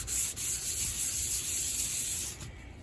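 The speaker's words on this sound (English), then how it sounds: "I'm very slowly and cautiously sanding this" Slow, careful hand sanding of an epoxy inlay gives a close, steady abrasive rubbing that runs unbroken for a few seconds and then eases off, with no speech.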